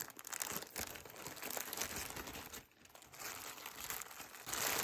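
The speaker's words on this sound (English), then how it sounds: "So let's open up this hefty bag." A hefty plastic bag of a bead haul being opened, with steady close crinkling and crumpling of the plastic throughout, one brief pause midway.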